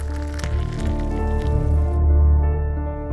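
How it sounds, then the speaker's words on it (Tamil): Water pours onto a garden plant with a soft, wet splashing and dripping that continues steadily for a few seconds, set against a backdrop of sustained musical tones. "வாடா போய் செடிக்கு தண்ணி ஊற்றலாம்"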